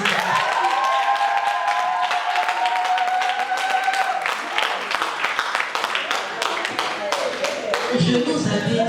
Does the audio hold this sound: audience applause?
yes